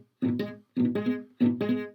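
Beginner's acoustic guitar chords ring out poorly in three separate strums, each followed by a short decay and a gap, with buzzy, uneven tone and no talking.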